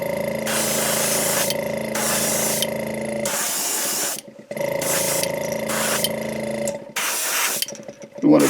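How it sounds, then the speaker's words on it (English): Red spray paint is applied to figures in repeated loud aerosol bursts, each a sharp hiss lasting about a second, separated by short gaps and brief rattling clicks of the can. "Alright, so I've got the red, and now we're just going to paint them red."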